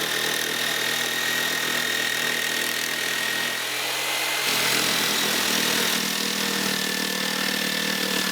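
A jigsaw cuts through wood for a model railroad helix layer, buzzing loud and continuous up close, its pitch shifting slightly midway as the cut continues.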